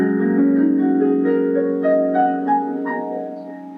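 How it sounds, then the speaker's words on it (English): A piano plays a pentatonic scale on the black keys, single notes rising one after another over a held, ringing low sustain, close and clear with no talking. "We have the pentatonic or five-tone scale, which is like all the black keys."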